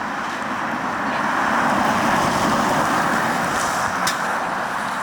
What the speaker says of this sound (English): here we are driving the Lexus NX Hybrid